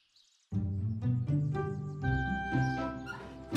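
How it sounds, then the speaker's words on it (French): A small lost dog in an animated cartoon yips and whimpers in short high-pitched calls for help over a steady musical backing, repeated several times. "Le petit chien appelle à l'aide."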